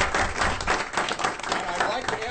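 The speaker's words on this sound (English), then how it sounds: "Please join me in a warm round of applause for our new members of the board." A crowd at a school district board of governors meeting claps for new board members, a short burst of brisk hand clapping with voices mixed in.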